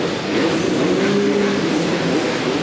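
250cc motocross bikes racing around an indoor supercross track in Marion, Ohio in 1993, a dense steady engine roar with overlapping revving tones and no pauses.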